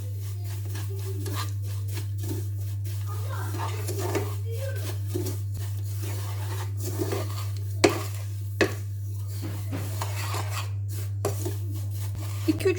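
Shredded kadayif being stirred and roasted in a pan with sugar and ground hazelnuts: soft scraping and rubbing strokes with occasional sharp utensil knocks against the pan, over a constant low hum.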